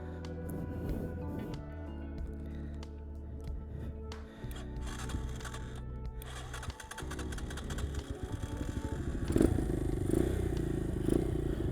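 A project dirt bike engine idles unevenly close by after the gas is turned on, a steady low putter with some mechanical clatter and a brief dip partway through, growing slightly louder toward the end.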